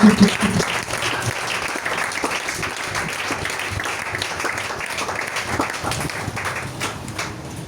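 A church congregation applauds and cheers for Jesus, a loud, continuous wash of clapping that holds steady for the full length and fades only slightly near the end.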